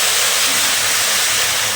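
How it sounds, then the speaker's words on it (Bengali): Hot water hits rice and lentils frying over a raised gas flame for Bengali kalai dal khichuri, a loud continuous steamy hiss and sizzle, close and steady throughout. "এবারে গ্যাসের ফ্লেমটা বাড়িয়ে দিয়ে এর মধ্যে দিয়ে দিচ্ছি গরম জল"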